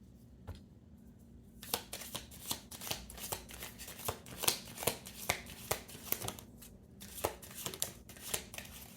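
Oracle cards for a tarot reading shuffled by hand, close and crisp, in irregular bursts of papery flicks and slaps spread over several seconds with brief pauses, no talking.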